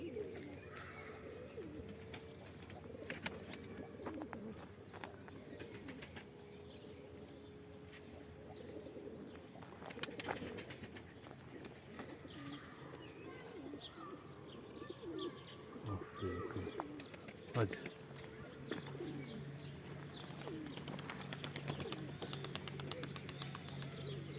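Pigeons cooing and chirping as they come down to land outdoors at dusk, with occasional wing flaps, soft and somewhat distant under faint background noise and bits of human voice.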